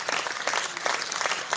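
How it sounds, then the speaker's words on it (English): A brief burst of crowd applause, dense and even clapping at moderate volume, with no voices over it. "Round of applause to you."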